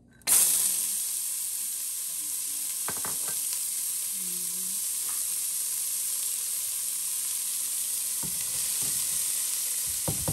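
Mirepoix vegetables sizzle steadily in a pan, a continuous bright hiss from start to finish with a few scattered clicks and utensil taps along the way.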